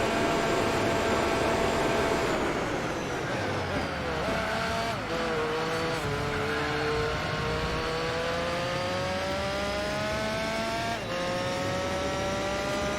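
A Castrol Tom's Toyota Supra race car in Gran Turismo 4 drones steadily with a high engine whine rising and dipping through gear shifts, continuous and fairly close, with faint talk underneath.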